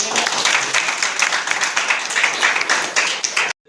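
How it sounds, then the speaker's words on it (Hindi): Audience at a meeting in a community hall bursts into applause, a dense, lively patter of many hands lasting a few seconds before cutting off abruptly. "तो जोरदार ताली हो जाए"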